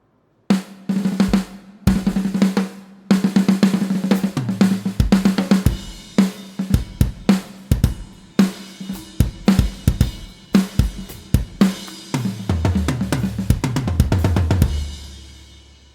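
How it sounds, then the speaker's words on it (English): A sampled 1989 Yamaha Recording Custom drum kit plays back through an electronic drum setup, a steady groove of punchy kick, snare and cymbal hits with busy fills building toward the end, loud and close with no talking. "So what you just heard is basically a Yamaha recording custom from 1989"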